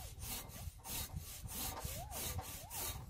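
A Silky hand saw cuts through a tree trunk in rhythmic back-and-forth strokes, each rasping pass of the teeth through wood clearly audible, close and steady at roughly three strokes per second.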